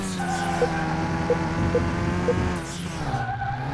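Car driven over a suspension test in Car Mechanic Simulator 2021: an engine hums steadily with tire skid noise and soft rhythmic thumps from bumps, then the engine note shifts at the end.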